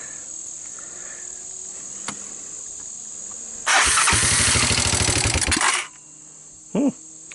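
A long-abandoned Honda TRX200SX ATV engine cranks in one loud, rapid chugging burst of about two seconds and fails to catch, with steady cricket chirping in the background before and after.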